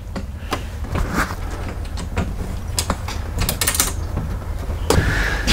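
A camper tent's front bow being pushed up and locked into place, heard as a run of sharp mechanical clicks, creaks and clunks of metal fittings at close range, ending in a louder latching snap.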